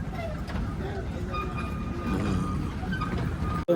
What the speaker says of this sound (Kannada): ಊಟಿ ಟಾಯ್ ಟ್ರೈನ್ ಅಂದರೆ ಇದೆ.